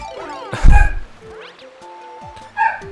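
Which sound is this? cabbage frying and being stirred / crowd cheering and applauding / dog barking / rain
dog barking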